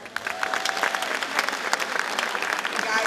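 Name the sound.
audience applause for a performer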